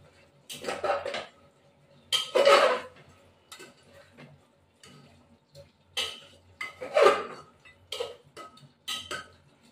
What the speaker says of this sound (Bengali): এবার নাড়া দেবো।